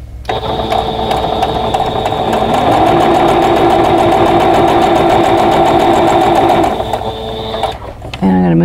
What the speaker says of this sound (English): I want to stitch on that line